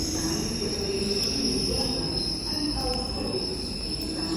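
A London Underground train at Gloucester Road Station, a loud steady rumble with a thin high wheel squeal running over it, no voices.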